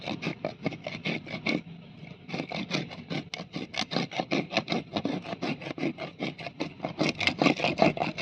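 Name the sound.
rubbing coconut husk to remove fibres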